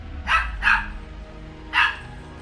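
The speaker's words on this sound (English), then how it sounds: "It's too late to be barking" A dog barks three times, two quick barks followed by a pause and a third, close and loud against a low background hum.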